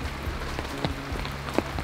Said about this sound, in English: I hope the rain will be over soon so we can really enjoy this jungle experience.